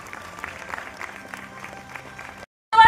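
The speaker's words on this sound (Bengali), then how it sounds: "সকলে জোরে হাততালি।" A seminar audience claps for a couple of seconds, a dense, fairly close patter of many hands that stops abruptly, then a brief loud burst of sound at the end.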